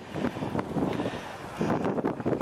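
Gusty wind at a marina under a bridge buffets the microphone with a rough, rumbling roar that swells and eases in uneven waves.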